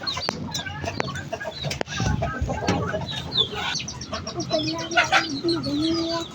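Chickens clucking near a brooding hen in a backyard coop on a hot day, irregular calls overlapping with other fowl and bird chirps, under background voices talking.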